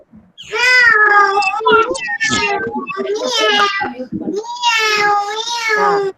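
Children's voices in a junior kindergarten class imitate a cat, drawing out loud, wavering meows one after another, close and high-pitched, with little pause between them.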